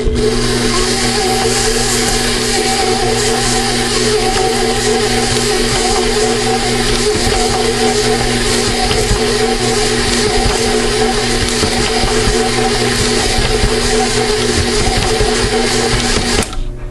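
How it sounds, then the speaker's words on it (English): An electric stand mixer runs continuously at a steady loud whir while beating crushed Oreo cookies, a constant motor drone with a faint rubbing texture that cuts off at the very end. "And back on the mixer. Mix that up."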